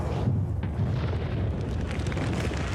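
Video game explosion built from cinematic, shockwave and delayed speed-of-sound layers: a dense, loud rumbling roar that fills the whole stretch without letting up, with no voices over it.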